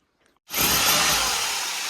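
A power drill bores holes into old wooden beams of a Konkan house under construction, starting abruptly after a brief quiet and then roaring loud and steady without pause.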